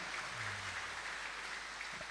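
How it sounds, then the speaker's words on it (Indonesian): Audience applause at a public debate for mayoral and deputy mayoral candidates in Sabang fills the whole stretch as a steady, even wash of clapping, moderately loud with no talk over it. "kita berikan tepuk tangan sekali lagi kepada para pasangan calon kita pada sore hari ini."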